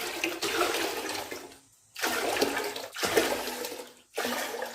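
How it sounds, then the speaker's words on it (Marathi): Water pours loudly and close into a pot in four separate gushes, each separated by a short pause, measured for a semolina papad batter. "आठ वेळा आपणाला पाणी भांड्यात घालायचे आहे"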